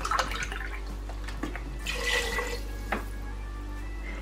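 Water is poured into a pressure cooker holding lamb shanks simmering in wine, a brief splashing pour in the middle of quiet kitchen background noise.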